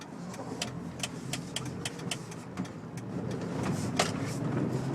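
Steady road rumble and engine drone inside a moving Ford Ranger pickup truck fitted with new shocks, with faint rattles and light knocks recurring throughout.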